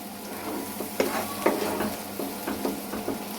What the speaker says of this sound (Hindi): प्याज कंटिन्यूसली हम हिलाते जाएंगे क्योंकि ना तेल जो है वो प्याज डालते ही ठंडा हो गया है